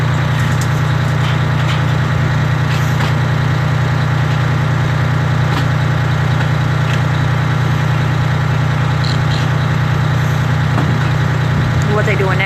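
Fire trucks idle at a residential structure fire, a loud, constant low diesel rumble steady throughout, with faint scattered background activity and distant voices underneath.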